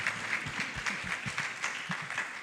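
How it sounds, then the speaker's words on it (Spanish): Audience applause at a women-and-sustainability event, a steady wash of many hands clapping at moderate distance, fairly soft and even throughout. "Un aplauso, por favor."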